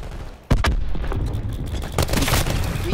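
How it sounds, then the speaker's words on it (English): Cluster grenade detonating in a video game: a sharp, loud blast at the half-second mark followed by a rumbling chain of booming, crackling explosions that fill the rest of the moment. "Cluster grenade going out."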